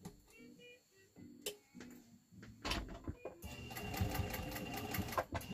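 A Pfaff 130 sewing machine stitches a seam, first in short stop-start bursts of needle clatter, then running steadily and louder in a continuous rhythmic whir toward the end.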